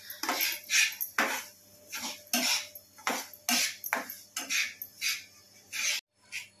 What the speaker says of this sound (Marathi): त्याच्यामध्येच आता आपण हा रवा आहे तो भाजून घ्यायचा.